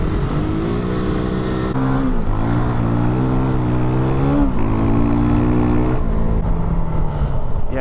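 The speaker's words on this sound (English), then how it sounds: "when the bike hits its power band at 7000 RPM, that's when you get the rear end loose pretty much at any speed" A KOVE 450 Rally dual-sport motorcycle engine revs loudly and close, its pitch climbing and falling in repeated surges as the throttle opens and closes, with no talk over it.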